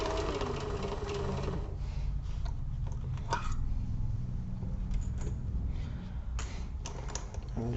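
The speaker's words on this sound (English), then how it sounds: "I'm just sewing around just like we did on the other, the bottom piece, but now we're on the top and we have the handles to work around" A sewing machine runs steadily while stitching around the top of a bag with handles, giving a continuous close mechanical whir with small clicks and shifts as the fabric is guided.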